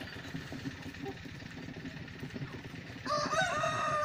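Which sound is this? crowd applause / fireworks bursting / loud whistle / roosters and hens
roosters and hens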